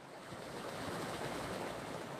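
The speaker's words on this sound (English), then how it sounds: "These streams may look ordinary, but they're helping carve the pathways that future rivers will follow." Flowing mountain streams make a steady, even rush of water, moderately faint and continuous, with no voices.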